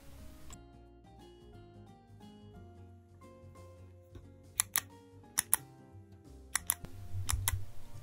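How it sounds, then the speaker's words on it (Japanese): A Pilot Custom Heritage 91 cap-actuated ballpoint pen is shaken, its loose internal parts giving a few sharp, quiet clicks over a low background hum, close up with no talk. "同じキャップノック式ボールペン、カスタムヘリテージ91、振ると部品が当たってカチカチと音がします。"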